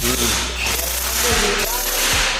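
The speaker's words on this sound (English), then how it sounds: "you just put it with the plastic hammer like this" Two dull taps from a plastic hammer, about a second apart, over a steady low hum with a voice murmuring early on.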